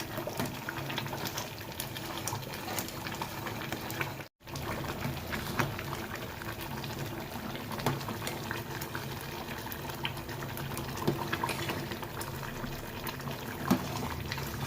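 Cracked wheat lapsi simmers in a pot of water, a steady bubbling and gurgling at close range, continuous and moderately quiet with no talk.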